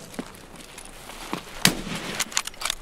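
A sharp, close gunshot cracks out once in the middle of a Pool Scavs video game match, with a few lighter pops and clicks scattered around it over a quiet background.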